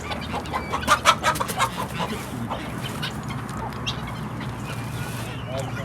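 Guinea fowl and chickens cluck repeatedly nearby, with a cluster of louder clucks early on, while people talk in the background.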